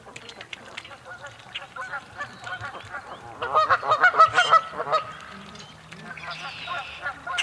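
A crowd of Canada geese honks over and over in a busy, overlapping chorus on an early morning duck hunt. The honking grows louder and denser midway through, with nearby rustling underneath.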